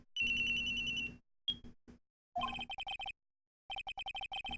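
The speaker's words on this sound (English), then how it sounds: "At around 10:30, I received a call on my cell phone." A cell phone rings in the Phoenix Wright video game with bright electronic trills: a long tone, a couple of short blips, then rapid pulsing ring bursts separated by brief silences, clear and alone.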